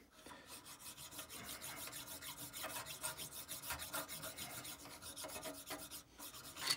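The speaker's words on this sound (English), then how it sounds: "Let's get some hand filing done" A hand file works a brass hammer head in quick, continuous strokes, a fairly quiet, steady metallic rasping that runs without pause and swells slightly near the end.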